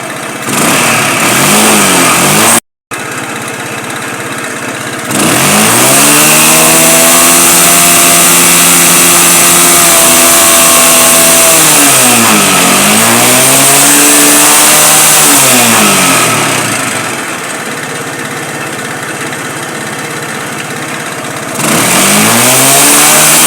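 A small petrol engine with a freshly tuned carburetor runs loud and close, settling at a steady idle before the revs are blipped up and eased back down several times, with a brief cut near the start.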